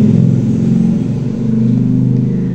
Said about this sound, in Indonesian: Tunggu dulu, ada motor lewat teman-teman.